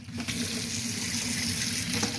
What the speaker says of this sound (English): Got hot water coming out the taps.